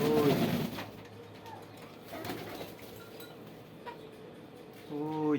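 Pigeons coo in low, rolling bursts at the start and end, close by, with faint chirps and background rustle between.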